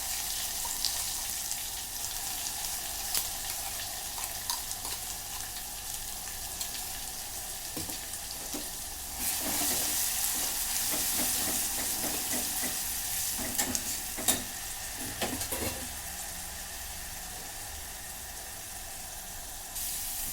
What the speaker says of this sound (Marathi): मसाला चांगला परतून झालेला आहे